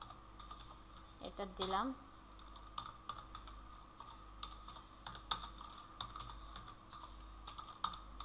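A name being typed on a computer keyboard with a steady run of soft, close key clicks, while a person briefly speaks partway through.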